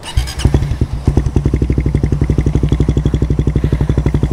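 A Raider 150 FI motorcycle with an aftermarket RL Power Pipe exhaust revs briefly, then settles into a loud, deep, steady idle with a rapid rhythmic throb from the exhaust, close by, outdoors.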